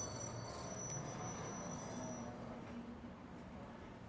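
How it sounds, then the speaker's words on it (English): A tram car rolling along a Shanghai film street set, a steady low rumble of wheels on rails with faint high squeals early on, moderately quiet and continuous. "And the tram car, of course, appears over and over again."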